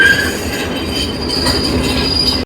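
A passenger train running from Jaffna toward Batticaloa in Sri Lanka, with a steady rolling rumble and high metallic wheel squeal on the rails, heard close from onboard with no speech.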